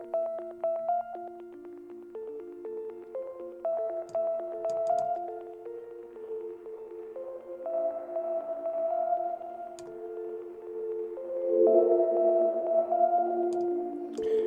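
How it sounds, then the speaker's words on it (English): A looping synth melody of sustained tones with a washy reverb tail from a Kinotone Ribbons effects pedal, notes overlapping and ringing out steadily throughout. "Let's add a little reverb to that."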